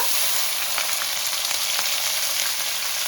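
Ginger paste drops into a sizzling spice tempering for a potato and pointed gourd curry, giving a steady, close, loud frying hiss with faint stirring scrapes and no talking.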